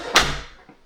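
The front door of a model townhouse opens with a single sharp click and thud, followed by a short decaying rustle and a faint knock near the end, close and fairly loud.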